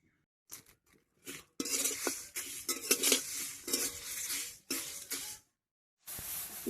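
Whole spices such as dried chillies, fenugreek, nigella, peppercorns, mustard seed, bay leaf and cardamom dry-frying in a pan for mango pickle, heard as close bursts of rattling and scraping stirs separated by brief silences.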